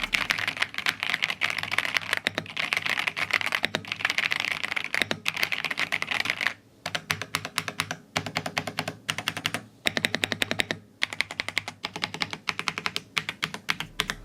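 Fast, continuous typing on an RK Royal Kludge mechanical keyboard, close up and alone, a dense clatter of key presses with a few brief pauses between bursts.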